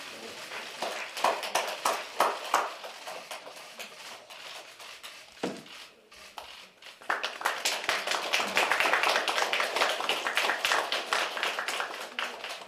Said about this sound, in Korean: 다음은 떡 케이크 절단 시기 있겠습니다. 큰 박수 부탁드립니다.